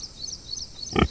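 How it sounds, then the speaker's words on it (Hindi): A pig bursts out of the bushes in a dense forest, giving a single short grunt near the end over a faint background hiss. "तभी झाड़ियों में से एक सुअर निकला और दौड़कर उनके पास से चला गया"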